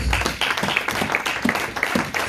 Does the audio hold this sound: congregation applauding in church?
yes